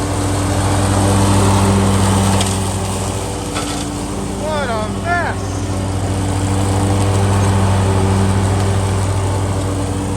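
A lawn mower drones steadily while mowing through fallen leaves, a continuous engine hum running throughout, with a brief voice speaking over it partway through.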